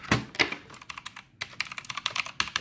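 Rapid clicky keystrokes on a Blackweb mechanical RGB gaming keyboard, close and distinct, with a brief pause partway through and then steady typing again, with no voices.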